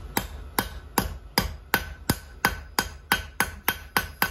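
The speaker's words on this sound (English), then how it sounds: "Everything else will flatten out with forging." A hammer strikes hot steel over and over while a bottle opener is forged, about a dozen sharp ringing blows in an even, steady rhythm, close and clear with no talking.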